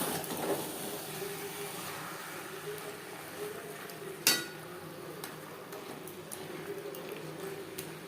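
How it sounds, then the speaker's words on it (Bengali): Chicken bhuna cooks in a lidded pan over a low to medium flame, with a quiet simmering hiss, a few soft stirs and one sharp clank of the lid or spoon midway. "মাঝে মধ্যে এভাবে একটু ঢাকনা খুলে নাড়াচাড়া করে দিতে হবে।"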